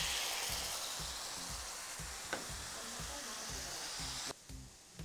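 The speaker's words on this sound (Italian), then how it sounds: "quando il fondo è caldo tuffo la salsiccia. Lascio rosolare un pochino, poi aggiungo il rosmarino tritato e sfumo con il vino bianco" Sausage sizzles and fries steadily in a hot pan with chopped rosemary, a broad continuous hiss with rhythmic low stirring scrapes, then white wine is poured in to deglaze and the sizzle briefly drops.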